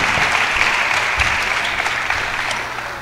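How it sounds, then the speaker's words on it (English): A church audience claps for a boy named Ethan at a children's presentation, sustained, even applause that fades slightly toward the end. "Let's clap for Ethan."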